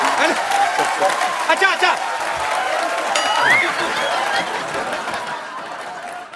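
Studio audience on The Kapil Sharma Show bursting into loud clapping and cheering, a dense wash of applause with laughter and chatter mixed in and a voice speaking briefly over it.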